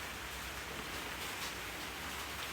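Steady heavy rain falling outside a home kitchen, a continuous even hiss with no change in intensity and no voices over it.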